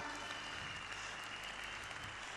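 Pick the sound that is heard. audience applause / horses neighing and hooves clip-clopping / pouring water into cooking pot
audience applause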